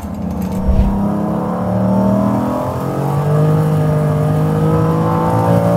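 A Lamborghini Diablo engine pulls hard under acceleration, a loud, close, rising mechanical roar heard from inside the car with its pitch climbing steadily through a gear.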